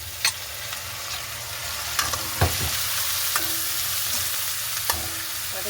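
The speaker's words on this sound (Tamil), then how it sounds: "இந்த டைம் நாங்கள் வெட்டி வச்சிருக்கிற கோவாயை சேர்த்து கொள்வோம்" Chopped cabbage sautés with garlic and onion in a pan, a steady sizzle broken by several sharp stirring knocks and scrapes of a spoon, close and unaccompanied by talk.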